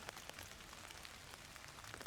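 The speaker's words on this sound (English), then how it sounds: "You can hear the rain coming down. It's not light rain. Yeah. They're fat drops." Heavy rain with fat drops pattering steadily on a golf course, a dense, even hiss with scattered sharper drop hits throughout, no talking.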